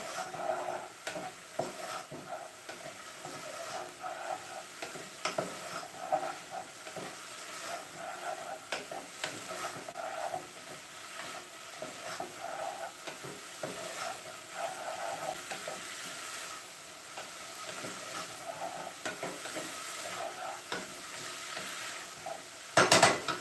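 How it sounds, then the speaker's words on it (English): Vegetables sizzle steadily in a hot pan while a utensil stirs and scrapes them, with occasional clinks against the pan, close and continuous throughout. "let me just give our veggies another stir."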